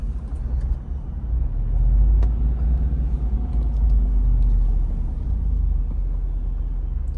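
A Jeep Wrangler powers up and over a hill on an off-road test track, giving a steady low engine rumble that swells in the middle, close and without talk.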